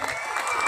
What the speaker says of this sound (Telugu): ఒక్కసారి గట్టిగా చప్పట్లు కొట్టాలి